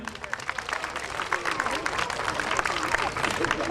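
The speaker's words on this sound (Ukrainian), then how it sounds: "йому аплодисменти" A crowd applauds a guest at a gala jazz concert in Berdychiv, with dense, sustained clapping filling the hall from start to finish.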